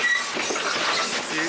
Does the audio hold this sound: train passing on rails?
yes